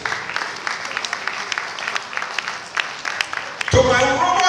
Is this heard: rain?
no